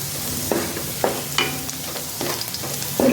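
Ginger and garlic frying in a pan for egg noodles, stirred with several distinct spatula scrapes and clanks over a steady oily sizzle, close and fairly loud, with no talking.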